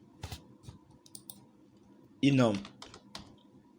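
Keys clack on a computer keyboard, a few sparse taps spread across the stretch, with a voice talking in the middle over a low background hum.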